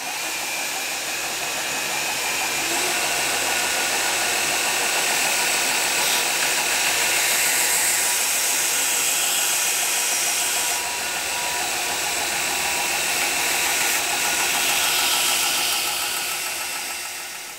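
A knife blade is sharpened against a 400 grit belt grinder, a steady loud broadband whir with a hissing grind that holds for the full length, dipping briefly in the middle before resuming.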